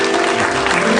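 Loud, dense studio audience applause at an Indonesian comedy talk show, a thick continuous burst of clapping filling the whole moment without talk.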